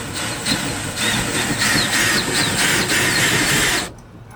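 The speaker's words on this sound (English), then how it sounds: "So now that self-tapping screw has drilled through that composite material" A power drill drives a self-tapping screw into a composite truck bed while mounting a direct-attachment bed mount, giving a steady whining motor drone with a broad, gritty buzz for several seconds that stops abruptly near the end.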